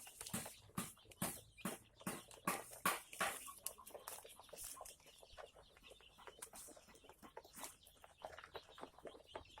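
Free-range village chicks about 21 days old cluck and peep in a rapid, rhythmic series that softens into scattered quieter chirps, close by with no talking.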